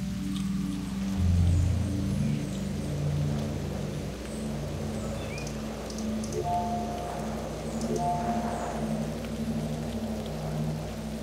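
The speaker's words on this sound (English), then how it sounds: "it sounds like it's raining" Steady rain patters and hisses continuously at moderate volume over a low, droning hum, with a few faint tonal notes drifting through and no voices.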